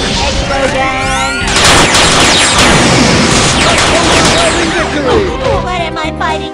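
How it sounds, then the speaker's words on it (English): Cannon explosions from Peacock's Catastrophe attack in the fighting game Skullgirls Mobile, a loud dense barrage of booms and crashes that runs almost without a break, mixed with game effects and music. "Catastrophe cannon. Boom, boom, boom, boom, boom."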